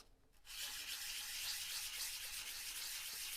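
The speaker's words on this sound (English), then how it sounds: "you'll take a piece of 320 grit sandpaper, put it on a flat surface, and you will" Sandpaper of 320 grit rubbing in circles on a flat surface, a steady close hiss of sanding that starts after a brief pause and carries on evenly.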